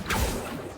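An Accio summoning spell in Hogwarts Legacy gives a short whooshing swish with a soft thump, brief and fairly close, with a faint fading tail.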